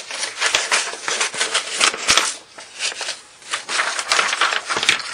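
Scissors snip through a sheet of printed paper to cut out a picture, a steady run of close, crisp cuts and rustles with brief pauses, no voices.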